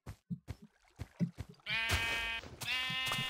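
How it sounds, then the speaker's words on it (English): Sheep bleating in a video game, a few soft clicky game sounds followed by two loud, close, drawn-out bleats. "Killing sheep for my own personal need."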